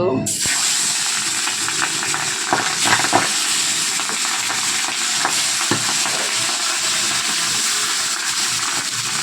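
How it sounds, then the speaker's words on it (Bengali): Dense, continuous crackling sizzle of fish frying in hot oil, close and loud throughout, with a few sharper pops. "এখানে আমার তেল গরম হয়ে গেছে, মাছটা ছেড়ে দেবো আমি এখন"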